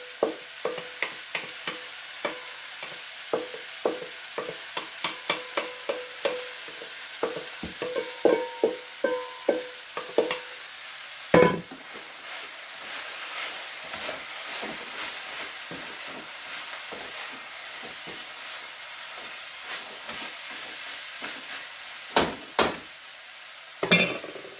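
Lamb's quarters greens fry in a pan with a steady sizzle, broken by frequent scraping and clacking strokes of a utensil stirring them, loud and close, with no talk.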